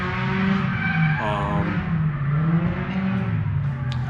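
A Nissan S15 drifts on track, its engine revving with rising and falling pitch while the tyres squeal and skid, close and loud, with a brief high screech near the end.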